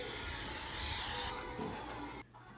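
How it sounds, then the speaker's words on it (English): A loud close burst of olive oil spray hisses onto bread crouton cubes on a baking pan for about a second, followed by quieter handling noises and a brief soft rustle, no talk. "spray them down with either some olive oil spray or some butter spray"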